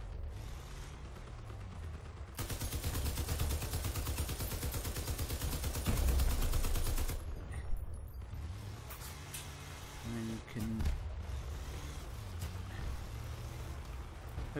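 Armoured vehicle guns in the combat game Crossout, a dense rapid burst of automatic fire for several seconds over rumbling engine and mechanical clatter, then quieter vehicle noise with scattered shots.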